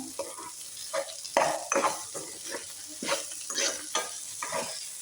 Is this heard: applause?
no